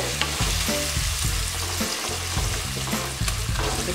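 Food frying in an uncovered pan, a steady, close, dense sizzle and crackle with occasional stirring scrapes, no voices.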